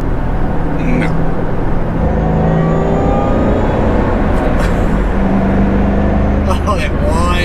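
A 2008 Shelby GT500 cruising on the road, its engine and supercharger whine rising as a steady tonal drone over road noise inside the cabin, with a voice talking over it.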